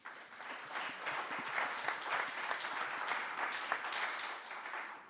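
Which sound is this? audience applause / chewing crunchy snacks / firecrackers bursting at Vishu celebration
audience applause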